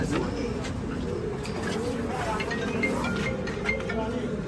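Soft, low pigeon cooing repeats in a gentle rolling rhythm amid background noise and faint chatter nearby.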